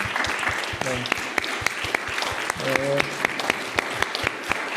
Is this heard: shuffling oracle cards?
no